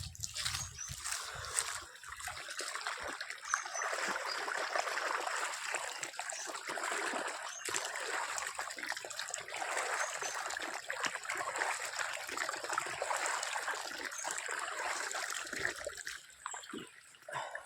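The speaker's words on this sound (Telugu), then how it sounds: "నీళ్ళైతే పోతూ ఉంటుంది." Water flows and trickles steadily from a pipe, a soft continuous gurgling stream heard fairly close with no talk.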